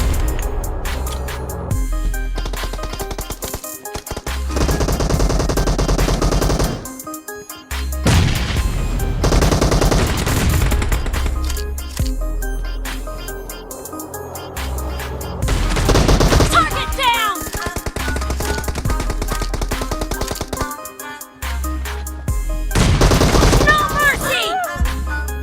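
M1014 shotgun fire in the BGMI mobile shooter, repeated loud bursts of gunshots in clusters separated by brief gaps, mixed with game sounds over about twenty-five seconds.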